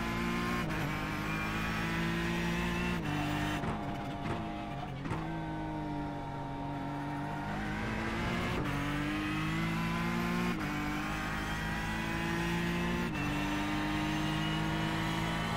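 LMP1 prototype race car engine in a Daytona racing video game, a loud sustained engine roar with repeated gear-shift breaks and rising revs as the car comes through, no talking over it.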